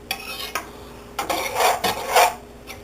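Shrimp being stirred in a pot for shrimp étouffée, giving several scraping, clattering strokes of a utensil against the pot in a close, moderately loud series with short pauses between.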